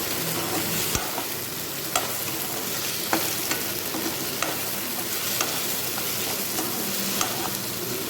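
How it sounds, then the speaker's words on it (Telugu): Tomatoes fry and sizzle steadily in a pan for tomato rice, added after the onions have browned, with a continuous hiss and regular stirring scrapes and clicks of a spoon against the pan about once a second. No one speaks. "ఇప్పుడు టమాటాలు వేయాలి."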